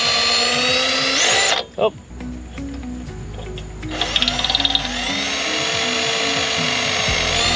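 A power drill bores through metal with an oiled bit while building a semi trailer wiring harness, its whine steady and close, briefly pausing before resuming; a short spoken exclamation cuts in.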